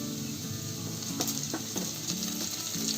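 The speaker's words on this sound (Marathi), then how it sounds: "मी कांदा फिरवून घेतलाय तेलामध्ये. त्याच्यामध्ये थोडासा कढीपत्ता टाकते." Onion and curry leaves sizzle steadily in hot oil, a continuous close frying hiss with a few light clicks and stirring knocks from the pan, and no talking.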